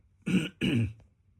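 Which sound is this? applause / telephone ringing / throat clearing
throat clearing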